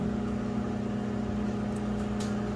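Microwave oven humming steadily while cooking bacon, a constant close electrical drone with a strong low buzz throughout, with no talk.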